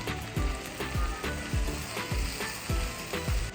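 Egg rice with fresh coriander leaves being stirred in a frying pan: a steady sizzle with rhythmic scraping strokes of the spoon about every half second, close and fairly loud.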